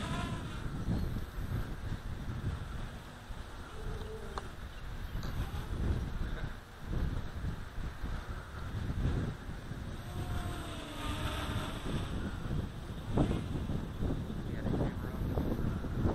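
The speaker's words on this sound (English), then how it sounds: "Yeah, the wind's really coming up now." Strong gusty wind blows outdoors on Maui, a steady loud rush buffeting the microphone throughout, with a faint whine of a small quadcopter in the background.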